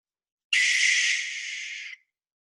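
An owl gives a single harsh, hissing screech that lasts about a second and a half. It is loud and clear, starts abruptly, then trails off, with silence on either side.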